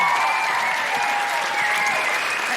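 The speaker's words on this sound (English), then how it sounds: "Big round of applause for Sue." A live show audience claps and cheers loudly in a sustained round of applause at a comedy podcast recording in Canberra, with steady dense clapping and a few whoops on top.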